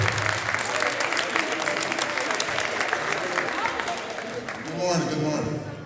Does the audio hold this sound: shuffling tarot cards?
no